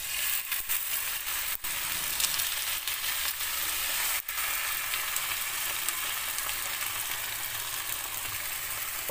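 Beaten egg sizzles loudly and steadily over thin lavash moistened with water in a hot pan, a close, even hiss with a couple of brief dropouts and no talking.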